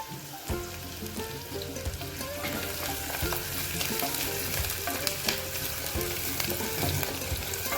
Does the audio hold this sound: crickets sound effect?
no